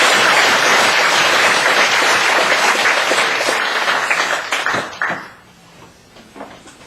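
A church congregation applauds loudly during a Sunday worship service, the dense clapping holding steady before thinning out and dying away to a few scattered claps near the end.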